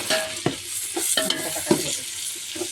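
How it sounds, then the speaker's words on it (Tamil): Tomatoes go into a hot frying pan for chicken biryani, giving a steady close sizzle with several sharp stirring scrapes and clatters spread across a few seconds, and no voices. "தக்காளி போடுறாங்க."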